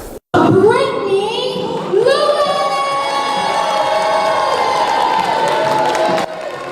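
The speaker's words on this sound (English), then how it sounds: "The crowd goes wild." Loud crowd cheering and whooping erupts as a new Miss Black America is crowned at the pageant, a continuous roar with rising shouts that holds steady before dropping off near the end.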